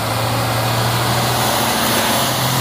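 A Fuso truck engine labors up the steep Bukit Kodok incline, giving a loud, steady, low diesel drone that holds throughout with no clear pauses.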